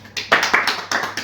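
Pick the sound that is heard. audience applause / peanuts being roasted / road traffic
audience applause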